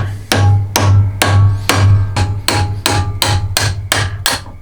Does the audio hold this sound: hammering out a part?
yes